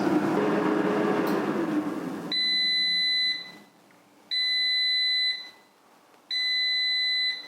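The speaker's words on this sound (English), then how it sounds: "The countdown timer hit 0 and it's ready for your fries." A Cosori air fryer sounds its timer at the end of a countdown, giving three long, steady electronic beeps spaced about a second apart after a stretch of fan whoosh cuts off.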